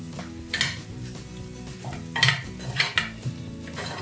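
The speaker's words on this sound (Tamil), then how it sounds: "ஒரு 2 நிமிஷம் மட்டும் மீடியம் ஃப்ளேமில் வச்சு வதக்கிக்கோங்க" Vegetables such as beans and peas sautéed for macaroni pasta in a pan over a medium flame, with repeated metal utensil clinks and scrapes against the pan over a soft background sizzle, close by.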